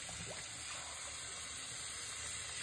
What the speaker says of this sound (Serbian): Ovo je sad natočena voda iz slavine, iz vodovoda grada Karlovca